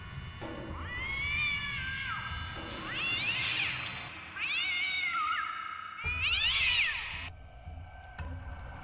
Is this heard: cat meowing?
yes